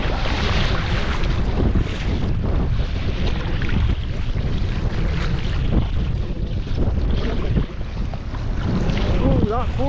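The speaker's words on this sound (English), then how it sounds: "Wind strengths have got up in the last 10 minutes." Strong wind roars steadily across the microphone while sea kayaking along a coast, with water and waves rushing underneath and no voices.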